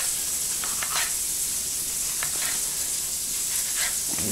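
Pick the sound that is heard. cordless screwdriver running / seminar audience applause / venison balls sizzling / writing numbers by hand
venison balls sizzling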